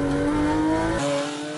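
A Porsche and a Nissan GT-R launch side by side in a drag race. Engines roar loudly with a rising rev tone that drops sharply near the end of the short burst.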